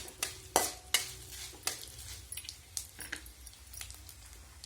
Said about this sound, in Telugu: తాలింపు వేగుతా ఉంది తాలింపు అయితే బాగా వేగిపోయింది